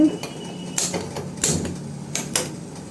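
Sugar syrup being stirred in a pan for sweet potato gulab jamun, heard as a few sharp metallic clinks and scrapes of a spoon against the pan over soft kitchen background noise.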